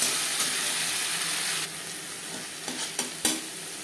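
Ginger, green chilli, garlic, onion and tomato frying in hot mustard oil, a steady close sizzle with a few sharp stirring clatters near the end.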